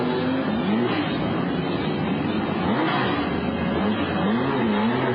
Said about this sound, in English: now the cars are going out on the circuit here for the first of what we think will be a quicker session